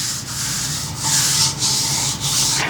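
Sandpaper at 400 grit rubs back and forth across a metal parabolic antenna being polished toward a mirror finish, giving close, steady rasping strokes in a regular rhythm.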